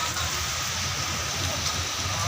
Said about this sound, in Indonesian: Wah ini hujan gede Bil.